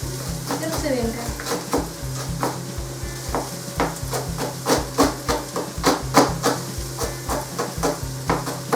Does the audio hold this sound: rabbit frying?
yes